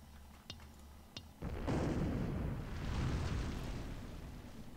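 A tree is blown apart by an explosion in the game Project Nomads, with a couple of small pops first and then a loud, rumbling blast that roars for several seconds before slowly fading.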